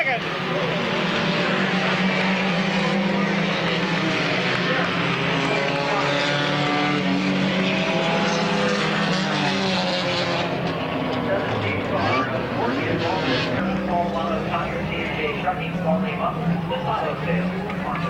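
Race cars roar around Midvale Speedway, a dense, continuous engine snarl that swells and fades as the pack passes, with a track announcer talking over it throughout.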